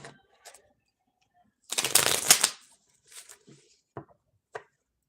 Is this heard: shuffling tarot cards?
yes